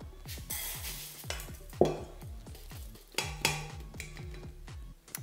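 Rinsed lentils poured into a large saucepan make a close, rattling patter of small hard grains striking metal, with a couple of louder rushes as the pour thickens and no one talking.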